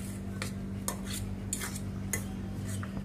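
A spoon mixing masala and onion in a bowl for a paneer paratha filling, with light metallic scrapes and clinks tapping in an irregular rhythm over a steady low hum.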